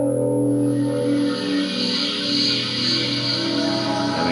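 A dense, sustained trailer sound effect called "Universe": a steady low drone with stacked tonal layers and a bright shimmering wash on top, loud and unbroken throughout with no talk.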